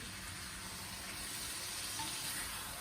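Mambun frying in a pan in a home kitchen, a steady faint sizzle and hiss running throughout without a break.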